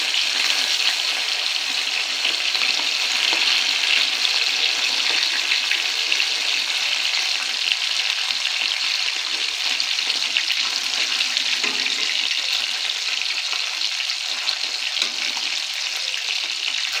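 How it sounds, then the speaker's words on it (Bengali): Koi fish sizzling steadily in hot oil, a loud, continuous dense crackle and spatter with no pause throughout. "এইবারে একে একে মাছগুলো ছেড়ে দেবো। তেল গরম হয়ে গেছে।"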